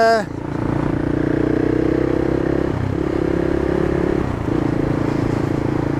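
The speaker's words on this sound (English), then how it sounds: "The exhaust is just phenomenal on it." A CCM Flat Tracker motorcycle exhaust burbles loudly and steadily close by, its deep throb dipping briefly a couple of times as the revs shift.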